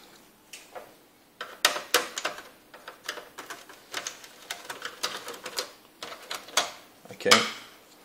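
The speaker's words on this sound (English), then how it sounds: "Another two screws here at the bottom." Screws being removed from the bottom of a Samsung SyncMaster 170v monitor: a close run of small, irregular clicks, ticks and plastic clatter, growing busier toward the end.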